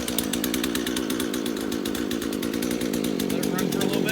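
An old Craftsman chainsaw engine, started after years sitting in a shed, runs continuously with a rough, rapid two-stroke buzz, loud and close throughout.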